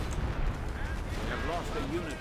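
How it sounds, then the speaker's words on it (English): Artillery fire from a 105mm gun in the World War II strategy game Company of Heroes, rumbling as low booms beneath a continuous busy battle mix with voices talking over it. "Did I just hear some artillery?"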